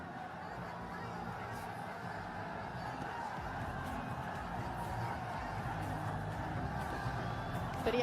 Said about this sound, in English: This crowd's getting into it.